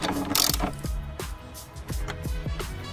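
A ratchet clicks in short bursts while nuts and bolts are tightened on a car tow hitch bracket under the bumper beam, with repeated metallic clicking strokes close by.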